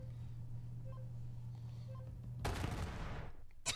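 Two players in Borderlands 3 fire a burst of gunshots together, a sudden loud crackling volley after a steady low hum, then a final sharp shot.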